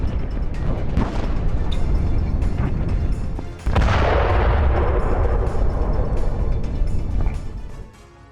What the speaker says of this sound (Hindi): यूक्रेन के चेरनीव में रूस का हमला, गैस स्टेशन में धमाके के बाद आग लग गई।